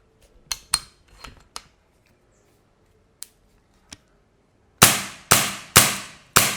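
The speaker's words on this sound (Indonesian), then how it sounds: "kita akan coba untuk ngetes senapan semi autonya ya" Semi-automatic PCP air rifle, an AR Cobra LDT V-3, fired in test: several faint snaps and mechanical clicks, then four loud sharp shots in quick even succession close by.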